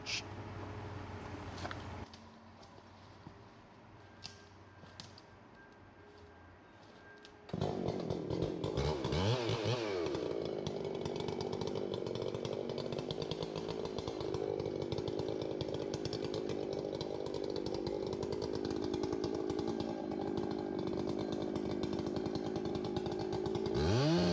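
A chainsaw idles briefly, then revs up and bites into timber in a challenging spot, a loud, sustained, close buzzing whine that drones on with slight pitch shifts as it cuts.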